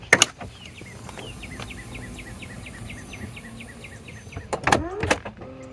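A Chrysler Pacifica minivan's power sliding door closes with a whirring motor and repeated ticking chirps, ending in clunks and a firm thud as it latches, close by.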